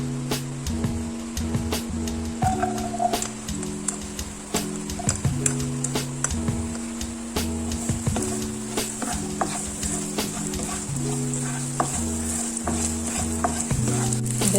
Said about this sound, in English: So in a pan, we will saute our garlic and onions.